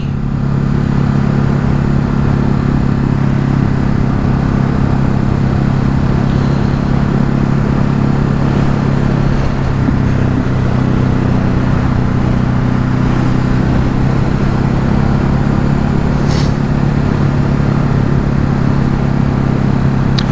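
A Ducati Hypermotard 950 SP motorcycle engine holds a steady, loud drone at an even idle or cruise for the whole stretch, with strong low harmonic bands and no talk.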